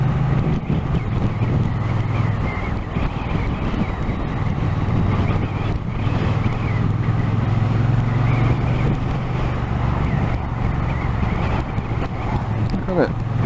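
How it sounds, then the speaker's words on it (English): Busy road traffic heard from a moving Triumph T120 Bonneville motorcycle, with a continuous rumble of engines, passing vehicles and wind buffeting the microphone, loud and steady throughout, and a rider speaking over it. "Wow, the traffic is murder today."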